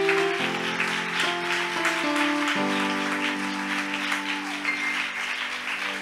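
A church congregation at a Sunday service applauds steadily for several seconds, a dense and loud wash of clapping with sustained tones, probably from an organ or keyboard, underneath.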